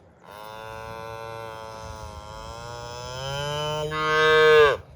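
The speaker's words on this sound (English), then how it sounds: "That's a lot of noise. Too many cows." A mini fluffy Highland cow gives one long, loud moo that holds steady, then rises and swells before cutting off, alone with no talk.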